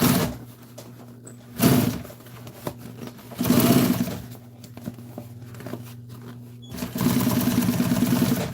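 A sewing machine stitches an upholstered seat for an old military jeep, running in short bursts separated by pauses, with a steady motor hum underneath and handling noises between the runs.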